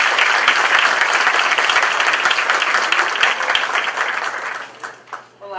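An audience gives a loud round of applause to welcome a speaker to a talk, dense clapping that holds steady and then thins out as a voice starts speaking over the last moments.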